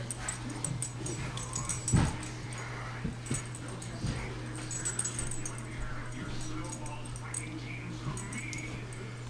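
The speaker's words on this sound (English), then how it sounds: "you little puppies" Puppies whimper and give small yips at close range over a steady low indoor hum, with quiet human talk in the background.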